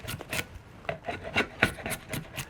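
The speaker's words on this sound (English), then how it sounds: "I'm actually taking the back of my knife and tilting it down a little bit, and that changes the bevel" Back of a knife scrapes along an Osage orange selfbow stave in repeated rasping strokes, each a short dry rub against the wood, close and quiet with no talk.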